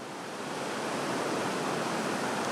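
Rushing mountain torrent beside a rough road on a high plateau at about 3000 m in Kyrgyzstan, a steady, dense, broadband roar of water that stays constant and close throughout, with no voices.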